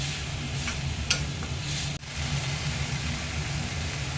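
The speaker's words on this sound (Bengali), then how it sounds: "ধনে গুঁড়ো, জিরে গুঁড়ো সব দিয়ে নাড়িয়ে চাড়িয়ে নিচ্ছি" Coriander and cumin powder being stirred in a pan of tuna curry, a steady close sizzle with soft scraping and a single sharp clack partway through, no voices.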